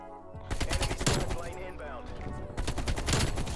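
Dense gunfire from a Call of Duty: Black Ops Cold War Standoff match, loud rapid bursts of shots running almost the whole time, with game effects layered underneath.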